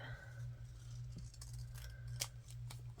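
Paper being cut with scissors at a crafting desk, a few quick snips standing out over a steady low hum, with one sharper cut near the end.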